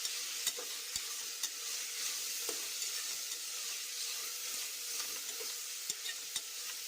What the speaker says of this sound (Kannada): ಈರುಳ್ಳಿ ಸಾಫ್ಟ್ ಆಗೋ ತನಕ ಎಣ್ಣೆಯಲ್ಲೇ ಹುರ್ಕೋಬೇಕು.